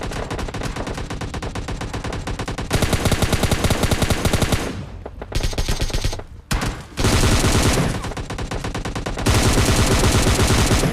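Sustained bursts of automatic gunfire in a battle royale video game, loud and continuous with brief pauses and repeated rapid volleys throughout, no voices.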